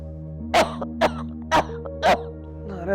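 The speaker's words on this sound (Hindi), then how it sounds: "खांसे जा रही है अम्मा।" An elderly mother coughs four times at roughly even half-second gaps, harsh and throaty, over a steady low hum with a faint tonal drone in the background.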